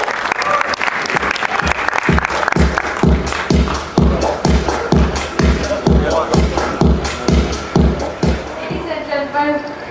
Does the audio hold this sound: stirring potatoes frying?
no